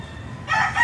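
Rooster crowing, a short loud burst that begins abruptly after a brief low rumble and is cut off within a second.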